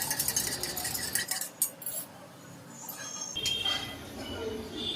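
Spoon clinking and scraping in a cup while stirring coffee dissolved in water, a run of bright metallic taps at first, then a pause and a few softer clinks in a home kitchen.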